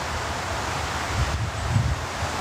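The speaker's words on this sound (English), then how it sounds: "it's windy" Wind rushes steadily through trees with rustling leaves, a broad airy noise that swells slightly in a couple of gusts.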